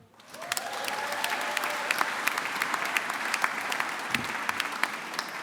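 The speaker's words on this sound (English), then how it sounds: "So can we get a cheer for Jasmine?" A graduation ceremony audience applauds for an absent student, a dense, steady wash of clapping from a sizeable crowd that rises quickly and holds, with a few sharper claps standing out near the front.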